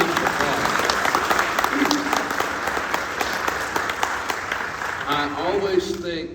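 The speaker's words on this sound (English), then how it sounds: "So I want to have a big round of applause." A luncheon audience gives a sustained round of applause for a creative guest, steady and fairly loud throughout, with a voice starting to speak near the end.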